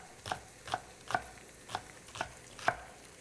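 Spring onions are chopped on a cutting board, six evenly spaced knife strikes landing about every half second, crisp and close against a quiet background.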